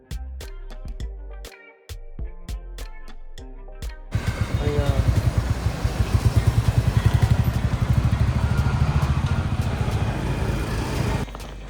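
A Royal Enfield Goan Classic motorcycle on a ride: its engine thrums steadily and fairly loudly for most of the stretch after a brief choppy opening, with a pulsing rumble close to the rider.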